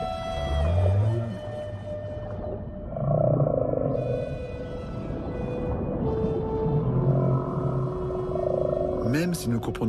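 Whale calls sound alone and continuously, with low moaning tones, rising and falling sweeps and higher tonal cries that overlap and swell in loudness, ending in a cluster of sharp upsweeping calls.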